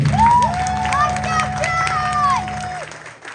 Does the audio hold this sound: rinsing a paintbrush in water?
no